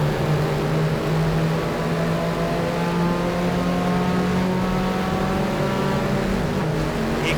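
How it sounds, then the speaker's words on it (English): Big Ford Falcon V8 race cars at Wanneroo circuit, a sustained loud engine roar with steady revving drone, the throaty note held without pause throughout. "Listen to those big V8s."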